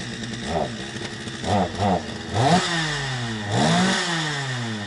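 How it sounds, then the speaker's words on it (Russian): A small engine saw revving up and down in repeated bursts, loud and close, its whine rising and falling with each pull of the throttle. "Проверяют пилу. Мужики сделали там пилу, вроде работает."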